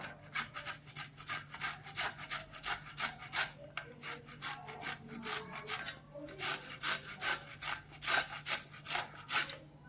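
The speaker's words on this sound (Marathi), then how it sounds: "आता फ्लावर सुद्धा खिसून घ्यायचा" Fresh cauliflower rubbed against a hand grater while cooking a wet turmeric vegetable dish, heard as repeated close rasping strokes in a steady back-and-forth rhythm, loud and alone with no talking.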